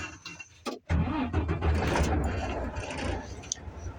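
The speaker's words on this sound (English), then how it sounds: "Once you do that, you can go ahead and turn on the truck." A truck engine with manual air brakes is started up, a brief cranking followed by the engine catching into a loud, steady idling rumble, close by.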